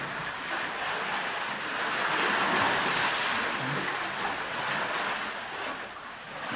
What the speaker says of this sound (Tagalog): Biglang lumakas yung alon.